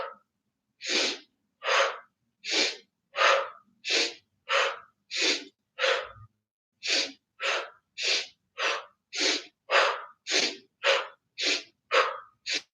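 Deep, forceful breaths during an exercise routine, about twenty sharp inhales and exhales in an even rhythm, close and loud, with one short pause midway and no speech.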